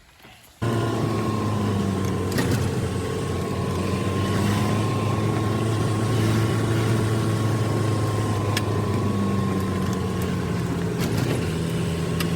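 A Land Rover being driven through a forest gives a loud, constant engine drone heard from inside the vehicle, starting abruptly and holding steady with a few light rattles and no talk.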